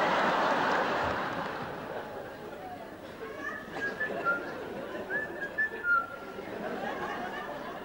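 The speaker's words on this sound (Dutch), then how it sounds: "Ik stond te fluiten." A person whistles a short, wavering tune at moderate volume, its notes rising and falling over a low murmur of background chatter and room noise.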